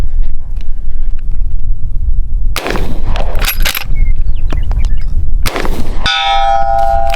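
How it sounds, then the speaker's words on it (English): Several loud, sharp gunshots ring out from a Miroku-made 1873 Winchester saddle ring carbine fired outdoors at a target around 120 yards away, spaced a couple of seconds apart, with lever-action clanks and a ringing metallic tone after the last shot. "let's just go and do some shooting"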